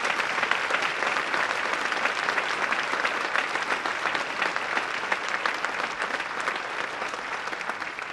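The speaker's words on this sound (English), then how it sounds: "Everybody, let's give them a big round of applause all over." Sustained applause from a concert hall audience honoring inductees at the 2017 Fayetteville Music Hall of Fame, a steady, even wash of many hands clapping at moderate distance with no talk over it.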